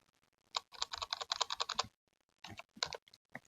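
Quick bursts of keystrokes on a computer keyboard clatter nearby, a dense run of clicks followed by a pause and a few more scattered taps, quiet and isolated.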